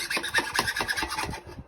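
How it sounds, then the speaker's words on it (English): An angle grinder rasps a chamfered edge onto the end of a plastic waste pipe during bathroom plumbing work, giving a steady, close, gritty scraping with rhythmic strokes that cut off abruptly near the end. "I put it on the grinder like that, and then I put a chamfered edge on that."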